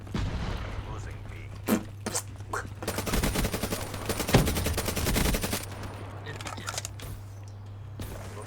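Gunfire from the Black Ops 3 video game cracks in scattered shots, then swells into a dense automatic burst of a few seconds before tapering to sporadic shots, with a steady background hum and a brief spoken word.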